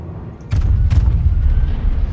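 Warship guns fire in World of Warships during a destroyer match, a deep booming blast that lands with two sharp bursts around the half-second mark, followed by a sustained low rumble.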